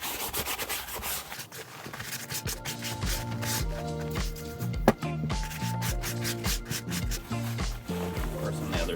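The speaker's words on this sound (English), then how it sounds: "take some of my Dawn, put it on my scrubby pad, and then just get the grease off of it" Wet outerwear fabric is scrubbed with a scrubby pad and Dawn dish soap to remove grease, producing rapid, continuous rubbing strokes up close under a steady rhythmic backing of music and faint background voice.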